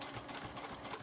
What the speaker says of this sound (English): start stitch and back stitch right where my top stitching ends